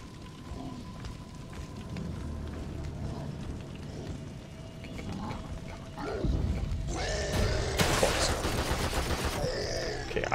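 Gunfire in the survival horror game The Evil Within 2, a loud burst of several close shots near the end after a stretch of quieter ambient game noise and rumble.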